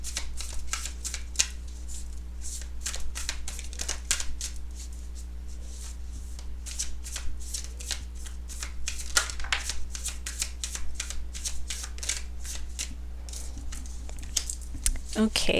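Tarot cards being shuffled by hand in a steady, continuous run of crisp riffling and sliding flicks, close and fairly quiet over a low constant hum, with no talking.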